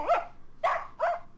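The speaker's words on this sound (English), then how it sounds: "I wonder if the dog barks in Spanish" A dog barks three times in the Living Books game Harry and the Haunted House (Spanish version), sharp, evenly spaced woofs, close and clear with no talking.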